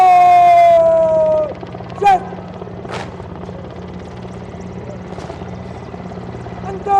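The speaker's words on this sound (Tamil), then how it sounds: "flower petals being showered at the venue by 2 Mi-17 helicopters of the Indian Air Force" Two Indian Air Force Mi-17 helicopters pass overhead during an Independence Day flag ceremony as petals are showered. A loud, steady rotor drone fills the scene, with tonal whines and brief bursts over it.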